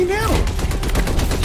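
Rapid gunfire from enemies shooting at the player in the video game Anthem, a dense burst of repeated shots over a short stretch, loud and close, with a voice heard briefly at the start.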